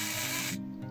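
Smart lock motor turned by hand, a brief close grinding of gears and a ratcheting whir that shifts pitch partway through.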